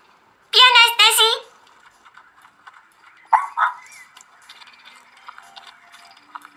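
A cartoon dog barks twice in quick succession in the Little Miss video game, loud and bright, followed by softer game effects and a brief yip.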